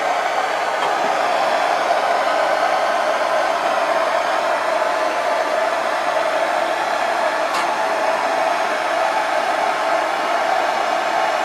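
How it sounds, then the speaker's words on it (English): A blowtorch flame heats a pipe while an upstairs bathroom suite is being replaced, giving a steady, loud roaring hiss that runs unbroken throughout with no talking. "Hold that torch, Amy."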